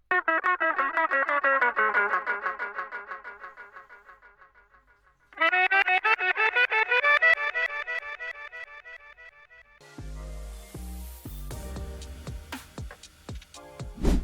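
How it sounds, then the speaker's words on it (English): A reversed guitar sample plays a melody in FL Studio, two phrases of swelling, backward-sounding plucked notes that fade out, then drums and other beat elements kick in near the end. "the same guitar sample, I just reversed it just to have some variation in the melody"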